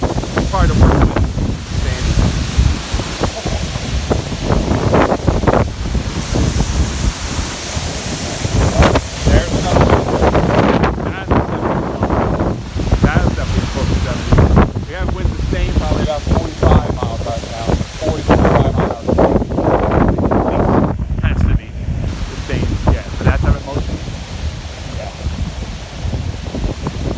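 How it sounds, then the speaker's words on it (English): Strong hurricane-force gusts from Tropical Storm Isaias on Long Island roar steadily and loudly against the microphone, surging in buffeting waves with rustling debris throughout. "We definitely have had hurricane force wind gusts with this storm."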